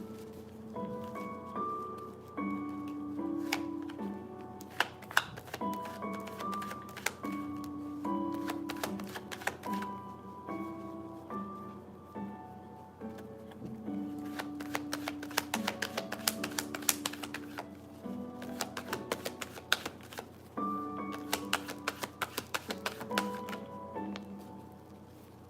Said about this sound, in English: I think I should shuffle these cards better.